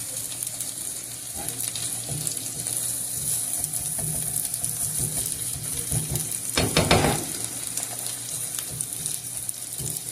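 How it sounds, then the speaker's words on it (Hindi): Goat brain masala with coriander sizzles steadily in a pan, a continuous soft frying hiss with occasional scraping stirs and one louder burst of stirring midway. "थोड़ी देर बाद सब्ज़ धनिया इसमें ऐड करें और अच्छी तरह मिक्स करें इसको।"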